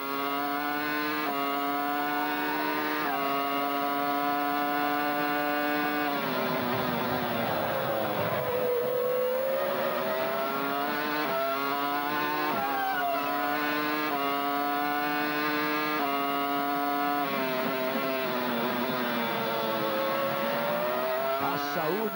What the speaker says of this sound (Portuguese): Saúde do motor BMW da Williams de Montoya